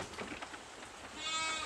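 A ewe bleating inside a sheep pen, a few nasal calls close by over steady barn background noise, with no talking.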